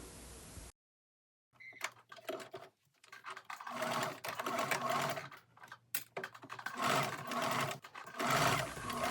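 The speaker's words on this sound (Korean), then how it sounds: "스커트의 옆선을 안감과 겉감 모두 박음질을 합니다." Sewing machine stitching the side seams of a padded wrap skirt, lining and outer fabric, running in steady bursts with short pauses between runs, close and fairly loud.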